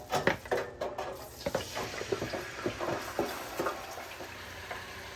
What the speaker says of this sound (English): So we are going to drop these into the oil and get them frying.